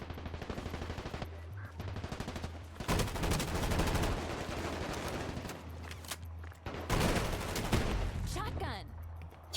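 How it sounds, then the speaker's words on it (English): Shotgun blasts and other weapon fire crack in rapid bursts during a multiplayer arena match in the video game Combat Champions, loud and dense, broken by brief pauses, with game voice announcements mixed in. "Shotgun. Freaking shotguns."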